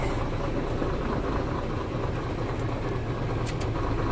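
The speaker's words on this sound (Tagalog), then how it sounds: "Kita naman natin na kahit na naka-switch off na yung susi ay ayaw pa rin mamatay ng makina." An Isuzu 6HK1 diesel engine keeps idling after the key is switched off, a steady, unbroken rumble running evenly throughout with no sign of shutting down.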